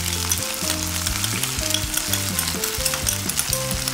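Cucumber and mixed seasoning stir-fry in a hot pan with a steady, loud sizzle and frequent scraping stirs, continuous and close with no talking.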